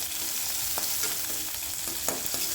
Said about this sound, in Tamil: பச்சை மிளகா வந்து நீல வாக்கில் கீறி போட்டிருக்கேன் ஸோ இதை நல்லா வதக்கிடலாம்